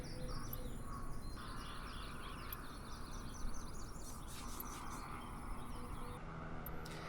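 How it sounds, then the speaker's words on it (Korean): Simulated small birds in Flight Simulator 2020 chirp in quick, repeated bursts at a Coron boat dock, faint against a steady outdoor background hum. "와 새소리도 들리네요."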